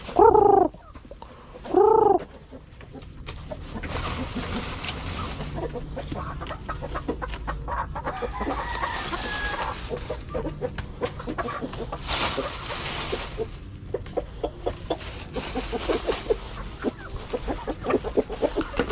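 Chickens in their coop cluck and call repeatedly, with two loud calls at the start followed by a busy, continuous chorus of clucking and scratching.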